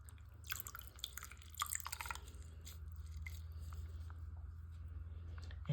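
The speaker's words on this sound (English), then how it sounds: "I'm squeezing that a little harder because I know what'll happen with that fabric." Water dripping and squishing as hand-squeezed vintage Barbie doll clothes are wrung out, with a cluster of wet splashy drips early on, then a steady low trickle.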